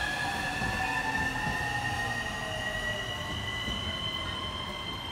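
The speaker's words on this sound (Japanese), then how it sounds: "電車来た。" A train rolls past close by, a steady loud rumble with squealing wheels and high metallic whines sustained throughout, no voices.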